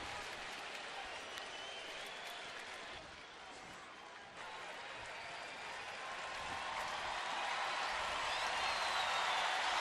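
A baseball crowd at an Indians home game roars and claps with the bases loaded, a broad wash of cheering that dips briefly, then swells louder toward the end.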